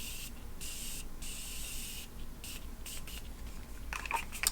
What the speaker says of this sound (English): I'm just going to do a quick little setting with my Morphe setting spray